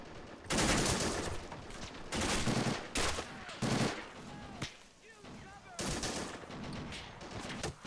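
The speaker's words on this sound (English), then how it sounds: "Oh crap, there's an MG here." Automatic machine-gun fire from an MG emplacement in the World War II shooter Normandy '44, loud sustained bursts separated by short pauses, with voices talking in between.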